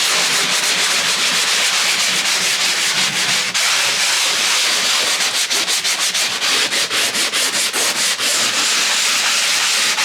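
Steady, loud abrasive rubbing of sanding on a model railroad layout, continuous scratchy strokes with a rapid rhythmic pulse, close and alone without talk.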